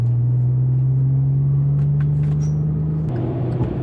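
A supercharged 3.6-litre Chevrolet Colorado ZR2 Bison truck driving under varied throttle: a loud, steady low engine drone and road rumble that shifts in pitch near the end, with no voices.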